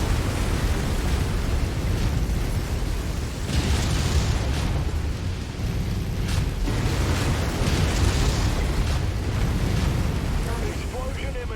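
Explosions and mech combat in the video game MechWarrior 5, a dense, loud, continuous roar of blasts and rumbling fire with bursts rising over it, while a voice talks.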